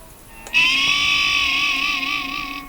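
A single bright, ringing guitar harmonic struck and held in a dive bomb, its pitch wavering and dipping slightly with a whammy-bar wobble, fading slowly.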